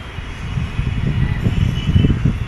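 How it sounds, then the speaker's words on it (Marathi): A metro train passing in the Ghatkopar–Andheri area of Mumbai, a low rumbling roll that swells and fluctuates over a couple of seconds, heard without talking. "मेट्रो जाते"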